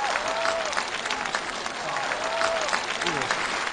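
Audience applause for a musician, a sustained wash of clapping from a crowd, with a voice briefly heard over it.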